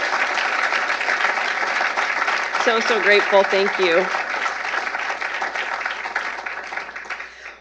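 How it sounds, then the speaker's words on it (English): An audience applauds steadily and fairly loudly throughout at a conservative career event, while a speaker briefly talks over the clapping midway. "Let's give them another round of applause."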